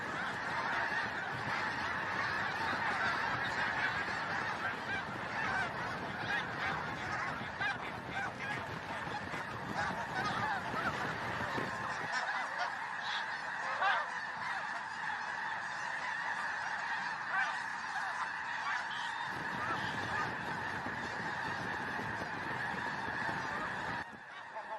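A flock of geese honking in a continuous, chaotic chorus as they flee approaching eagles, the loud overlapping calls carrying on throughout with a brief dip in the low rumble midway.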